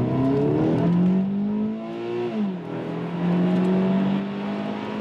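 A 2013 Scion FR-S in sport mode with Shiftronic pulls hard from inside the cabin, the engine note climbing steadily through the revs, dipping briefly at a shift, then rising again, loud and continuous.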